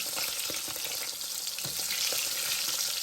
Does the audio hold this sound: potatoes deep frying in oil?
yes